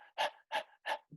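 A human voice imitates panting breath like a runner, with three quick breathy huffs in an even rhythm, close and clear.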